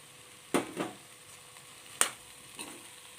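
Soya chunks and slit green chilies are stirred in a frying pan, giving a few sharp scraping strokes and clatters of the spoon over a faint background sizzle.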